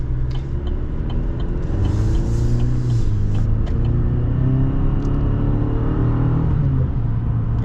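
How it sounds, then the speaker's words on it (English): A 2024 Chevy Silverado Custom pickup with the Turbo Max four-cylinder engine accelerates, a steady low rumbling drone that climbs in pitch through rising gears, heard close from inside the cab with no talking. "I guess we'll see how the Turbo Max performs in a second here."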